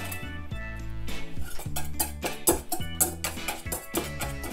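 A wire whisk chops a hard-boiled egg in a bowl for homemade low-carb remoulade, giving steady, close metallic clinks and taps against the bowl over soft background music, with no talking.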